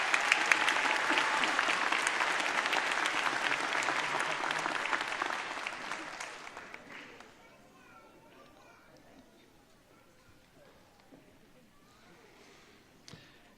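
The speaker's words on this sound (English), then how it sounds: "Another round of applause, please, for Chancellor Hepta." Applause at a South Florida State College commencement ceremony, a dense and steady clapping from a large audience that fades out after about seven seconds, leaving a quiet hall with faint murmurs.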